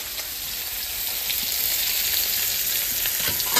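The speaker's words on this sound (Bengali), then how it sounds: "এই মাছগুলো এরকম করে ভেজে নেবো।" Fish frying in a pan gives a steady, close sizzle with a soft crackle, holding an even level throughout with no voices.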